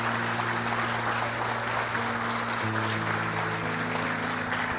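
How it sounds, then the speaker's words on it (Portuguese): Congregation clapping for Jesus at a Brazilian church service, a steady wash of applause over sustained organ or keyboard chords that shift midway. "Se você crê nisso, pode dar uma salva de palmas para Jesus"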